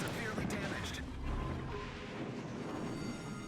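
Naval gunfire in World of Warships: Legends, with heavy booming shell blasts and crashing impacts, loudest near the start, then a steady rumbling barrage of battle noise throughout.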